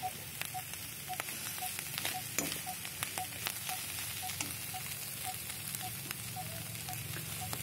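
Red ants frying in a pan, giving a soft continuous sizzle with faint crackles and a row of regular light ticking taps, heard from fairly close but at low volume.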